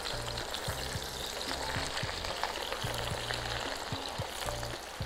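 Grated zucchini and vegetables for zucchini caviar fry in vegetable oil in a pot while being stirred: steady dense sizzling with a rhythmic scraping of the spoon, close up, with no talk.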